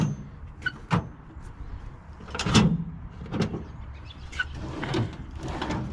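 Storage drawers inside a Jeep XJ slide open and shut with latching clunks, several close sliding strokes and knocks spread across the stretch.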